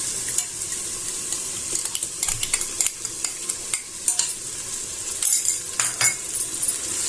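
Salt and yogurt being stirred into a chicken biryani marinade, a spoon scraping and clinking against the bowl in soft, irregular strokes, with a faint sizzle-like hiss in the background.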